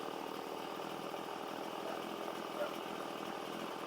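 A 30cc Stihl 170 chainsaw milling a log, a steady continuous engine whine and cutting buzz held at close range without a break.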